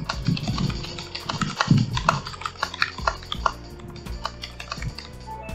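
Fast typing on a computer keyboard during a typing lesson, a dense stream of crisp key clicks and clacks in quick irregular rhythm, close up and alone.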